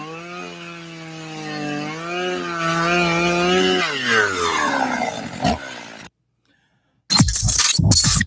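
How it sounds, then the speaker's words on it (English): A chainsaw used as a sound effect in a radio ad drones with a wavering, revving pitch for several seconds, cuts to silence, then returns in a loud harsh burst. "Use a chainsaw by Burl for all your ball stuffing needs."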